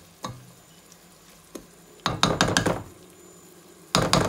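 Chicken frying in a pan with onion, ginger and garlic for a chicken biryani, with a few scattered knocks and clatters of a spoon stirring against the pot, then two short bursts of scraping and sizzling, close and fairly loud.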